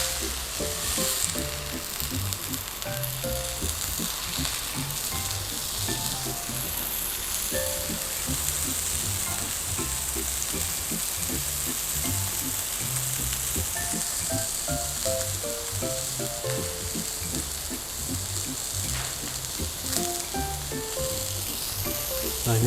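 Ground beef fries in a hot pan with a dense, continuous sizzle and crackle, close and loud, with occasional stirring scrapes throughout.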